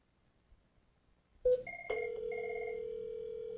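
Incoming call ringing on an IP phone under a Cisco UCME dial plan: a sharp click, then a steady electronic ring tone that holds on continuously, moderately loud and alone.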